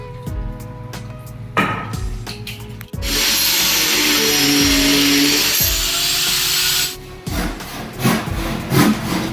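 A power saw cuts through old, weathered wood with a loud, sustained whine lasting several seconds, bracketed by knocking and handling noises before and after.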